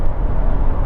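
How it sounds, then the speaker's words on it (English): Continuous broadband tyre roar inside a Jaguar F-Type travelling at 60 mph on a dual carriageway with the active exhaust switched off, an even, steady road noise with no voices. "tyre roar, which you get from any car."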